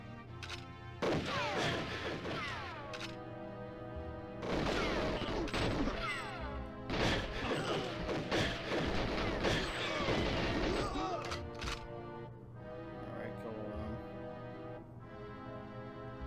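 Enemy guards in GoldenEye 007 fire in repeated sharp bursts of gunfire with clattering impacts. The bursts come in several clusters over a steady game backdrop, and a voice talks intermittently between them.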